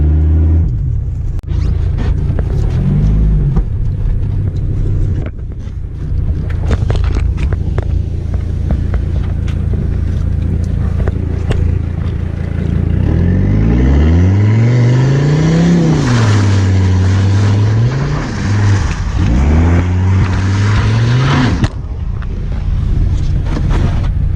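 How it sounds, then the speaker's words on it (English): A slammed W123 Mercedes-Benz diesel spins through a donut, its engine droning low and steady, then rising and falling in pitch as it revs through the turn, with a loud rumbling close by throughout. "I will do a donut over there in the Benz for you"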